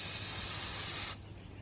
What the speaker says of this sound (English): This is the spray we're gonna be using. So all we do is just spray it on there